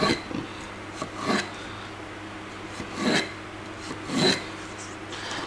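A knife cuts cucumbers into sticks on a board, giving a few separate rasping strokes spaced about a second apart, close and fairly quiet, with no talk.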